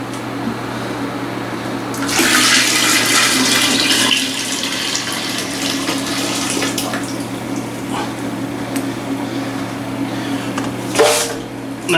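Wort is poured into a brewing kettle during an all-grain brew-in-a-bag home brew, a steady rushing splash of liquid over a low hum that starts at about two seconds, eases later and ends with a few final splashes.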